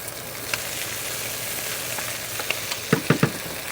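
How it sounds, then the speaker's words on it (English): Sausages fry in a pan as grease renders out, a steady close sizzle with a few sharper crackles and pops near the end; no voices. "all that flavor and grease that renders out of the sausages as they cook"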